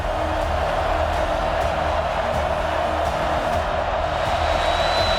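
A stadium crowd cheering at a Florida Gators college football game in the Swamp, a dense, steady roar of many voices heard from within the stands, continuous and loud with no breaks.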